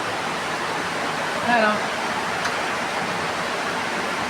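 Rainwater runs steadily during the rainy season, a continuous rushing wash that fills the whole stretch, with a brief spoken exclamation partway through.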